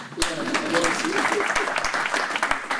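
An audience at a church sermon claps steadily, a dense run of applause holding at an even level throughout with a voice faintly underneath.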